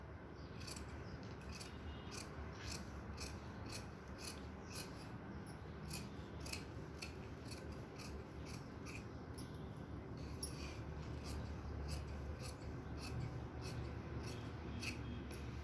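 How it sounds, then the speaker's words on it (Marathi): Scissors cutting blouse sleeve fabric, a steady run of quick, crisp snips, close up, with a faint rustle of cloth underneath and no talking. "तर आता काय करायचं, ही बाई आता कट करून घ्यायची."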